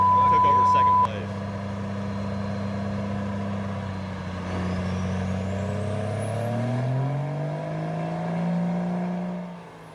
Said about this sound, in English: right there you guys can see some dyno, some power being laid down